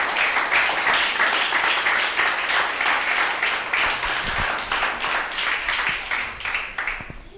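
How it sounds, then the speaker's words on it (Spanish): Loud, sustained applause from a church congregation during a Spanish-language evangelical sermon, dense clapping filling the full clip without pause and thinning slightly toward the end. "Denle un fuerte aplauso a Cristo."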